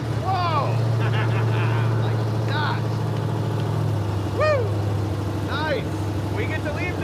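Roadkill muscle truck's engine fired up and running outdoors, a steady loud idle rumble throughout with excited voices shouting over it.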